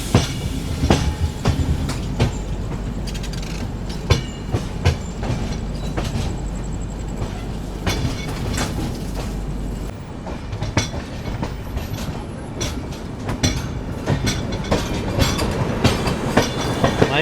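The 12840 Chennai Central to Howrah Mail superfast express runs steadily, heard from on board as a continuous loud rumble with rhythmic clickety-clack wheel beats and no talking.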